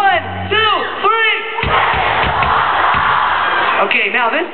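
Large concert crowd at a show shouting a phrase together on cue, a loud massed roar of voices sustained for a few seconds amid a singer's voice.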